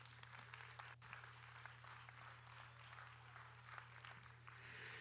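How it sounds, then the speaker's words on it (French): Applause from a cabaret festival audience in Charlevoix, Quebec, for a venue's variety programmer, steady crowd clapping over a constant low electrical hum, fairly faint and even throughout. "Un main d'applaudissements pour Francine Derry."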